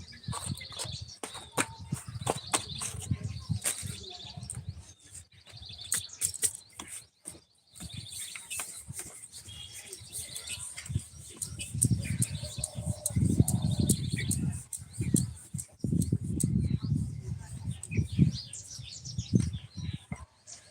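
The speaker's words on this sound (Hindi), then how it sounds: "छत्तीसगढ़ से भी चिड़ियों को चहकने भेज दिया हूँ" Birds chirp in short, repeated high tweets across the scene, with scattered clicks and soft thuds and some low rumbling background activity, moderately faint.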